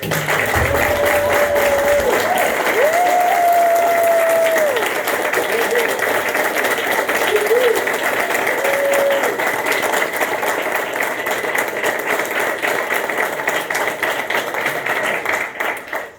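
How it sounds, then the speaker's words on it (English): An audience at an Eagle Scout Court of Honor ceremony stands and applauds, sustained dense clapping filling the room for about sixteen seconds, loud and steady, with a faint tone and murmuring voices underneath. "Would the audience please stand and give a big round of applause to Autumn Meyer"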